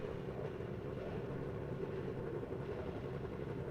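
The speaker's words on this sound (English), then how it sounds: "Love the sound of these cars just idling away on the grid" Formula 3 race cars idle together on the starting grid at Watkins Glen in a sim racing game, a steady low engine drone that holds evenly throughout with no talk.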